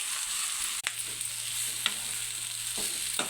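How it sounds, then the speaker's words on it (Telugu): Smashed potato frying in a little oil with turmeric, a close, continuous sizzle with a few brief scrapes and knocks of a spoon in the pan. "కొద్దిగా నూనెలో ఇప్పుడు స్మాష్ చేసుకున్న బంగాళదుంప పొడి అయితే మనం యాడ్ చేసుకుందామండి"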